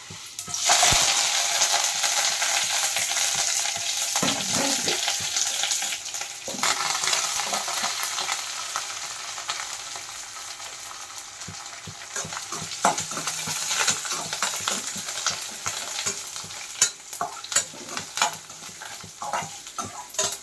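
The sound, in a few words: spices sizzling in hot oil for tempering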